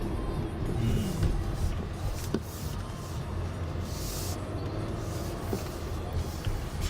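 2018 Porsche Cayenne driving along a mixed test road, heard from inside as a steady low engine and road rumble with faint tyre noise throughout.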